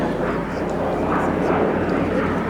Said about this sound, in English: my favourite World War II fighter, tough as old boots, manoeuvrable enough.